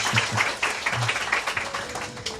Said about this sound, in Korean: 우리 하나님께 영광의 박수 올려드립시다.